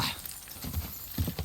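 Horse hooves clip-clop steadily in the medieval game Kingdom Come: Deliverance II, a close, moderately loud gait with a few heavier footfalls toward the end and no talking.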